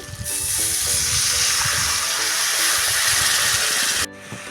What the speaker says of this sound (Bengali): মশলাটা আমার ভাজা হয়ে গেছে দিয়ে দেবো জল